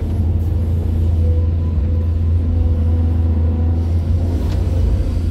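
SANY SY205C excavator engine running as the machine drives at night, a loud, steady low diesel rumble without a break throughout.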